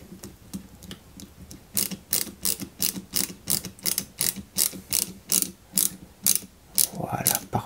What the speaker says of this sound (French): on maintient cette pièce ici et on fixe ça avec 2 vis AP délicatement